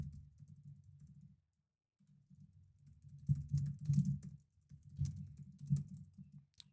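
Keys clatter on a computer keyboard at a desk during a software walkthrough, coming as quick irregular bursts of close clicks over a low steady hum, with a short pause early on and no talking.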